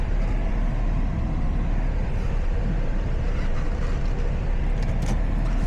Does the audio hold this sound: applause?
no